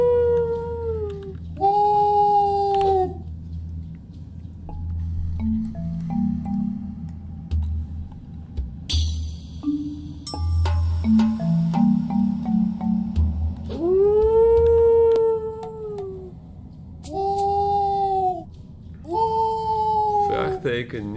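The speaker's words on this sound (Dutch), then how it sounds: "Als jij hier even gaat blaffen, dan kan ik even rustig nadenken." Dog howling in the Bilkins' Folly video game, several long rising and falling howls in distinct bursts, loud and close, separated by stretches of someone talking over low game background sounds.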